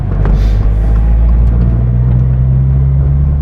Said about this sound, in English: Now that we finish up our installation of the Remark Sports Touring Catback, let's go take it for a drive.